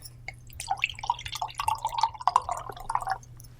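Crab cider poured into a glass: a close, lively stream of small drips and splashes running for several seconds with no talk.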